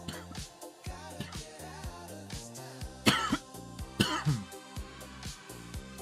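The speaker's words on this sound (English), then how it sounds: "Coughing like that." A person coughs in two or three harsh bursts close by, heard over steady background music.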